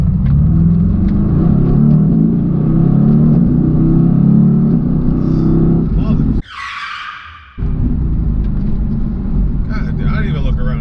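A Mercedes AMG GT accelerating hard away from a red light: a loud, close engine roar builds steadily, drops off for about a second at a gear change with a brief rising whine, then surges back.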